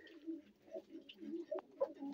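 Pigeons coo softly in a village loft where pairs are nesting on eggs, a series of low, rounded coos rising and falling in short overlapping phrases, faint and close, with a trace of voice.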